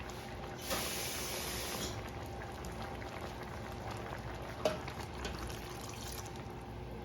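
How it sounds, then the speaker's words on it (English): Water added to a simmering pot of Trini-style stew chicken with potatoes, heard as a steady bubbling, hissing sizzle with a brief brighter splash early on, close and continuous without speech. "I'm going to add just a little bit more water because I know that's going to go down."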